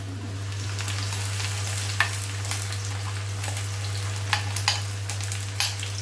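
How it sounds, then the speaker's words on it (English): Onions and mushrooms sizzle and crackle in a hot pan while being stir fried, a steady frying hiss with occasional sharper pops and a constant low hum beneath, no talking. "So that's going to be stir fried with the onions, and the mushrooms are starting to smoke"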